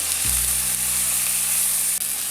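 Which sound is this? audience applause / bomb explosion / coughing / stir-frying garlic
stir-frying garlic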